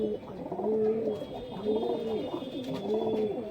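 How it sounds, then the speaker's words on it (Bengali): A male Chini pigeon coos close by in repeated rolling, bubbling phrases, three rising-and-falling calls in steady rhythm with a faint high electrical whine behind. "নট ডাকছে, পুরো চিনি নট"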